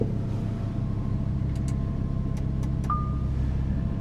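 A 2015 Lamborghini Huracán LP610-4 engine runs with a steady, deep low rumble, heard close and at an even level throughout, with a few faint higher clicks and a brief tone near the end.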